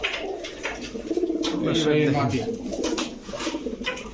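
Pigeons coo with a low, rolling murmur at a shop selling fancy breeds such as Teddy, Pankhi and Saharanpuri, with a muffed female pigeon close by, the calls swelling midway while someone talks over them.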